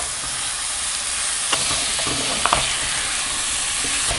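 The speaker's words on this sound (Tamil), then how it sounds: "எண்ணெய் பிரிஞ்சு வர அளவுக்கு நல்லா வதக்கிக்கணும்." Chopped tomatoes stir and sauté in hot oil for biryani, a steady close sizzle broken by a few sharp scrapes of the spoon against the pan.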